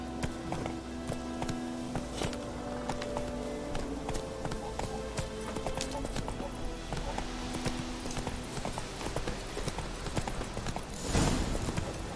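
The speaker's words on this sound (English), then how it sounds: "Not so fast, Roach." Horse hooves galloping in The Witcher 3, a quick rhythmic clip-clop of hoofbeats across the whole stretch with game music tones underneath, ending with a brief louder burst.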